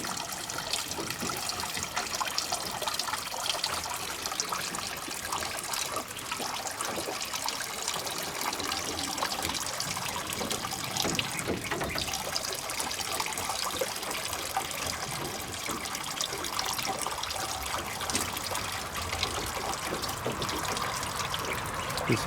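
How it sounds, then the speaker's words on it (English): Water runs and trickles steadily off the backs of well-oiled baby ducklings, a continuous close splashing dribble with no pauses. "You see the water running off their backs."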